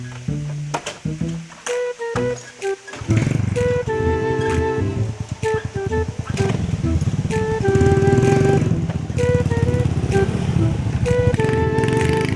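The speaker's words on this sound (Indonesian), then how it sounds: "urang naik motor aja euy" A motorcycle ride starts with a few rough engine bursts, then a steady, loud, close engine drone with shifting pitch and no one talking.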